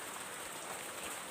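Steady rain pours down on potted plants left outside, a dense, even hiss of drops with no pauses and no voices.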